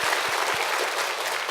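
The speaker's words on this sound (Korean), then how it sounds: "귀한 은혜를 주신 우리 하나님 앞에 영광의 박수 힘차게 올려드리겠습니다." A congregation at a church revival meeting marking the church's 45th anniversary breaks into full, sustained applause, many hands clapping in a thick, steady roar that fills the hall.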